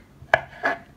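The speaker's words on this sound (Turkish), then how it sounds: "biz de sosumuza ilave edeceğimiz acı biberlerimizi doğramaya başlıyoruz" A knife chops hot peppers on a board for a tomato sauce, with two crisp cuts close by and a faint third at the end.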